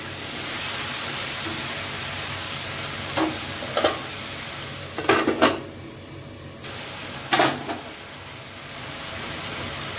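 Okra cooking with turmeric in a pan, a steady loud sizzle with a few brief stirring scrapes and clinks partway through.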